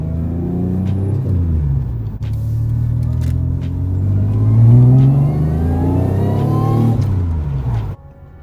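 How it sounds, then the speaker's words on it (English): A Toyota TRD Solara engine revs on a road test drive after a head bolt and gasket upgrade, rising and falling through several strong, close pulls with a steady rumble, then cutting off sharply near the end. "We're just gonna go around the block for a test drive."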